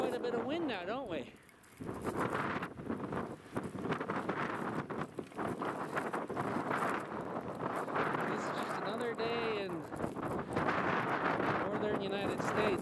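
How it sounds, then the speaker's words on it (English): Strong wind buffets an outdoor microphone on a winter airfield with blue skies, beside a Zenith STOL SkyJeep on snow skis. A continuous gusting rumble sits under people talking throughout. "we've actually got quite a bit of wind now, don't we?"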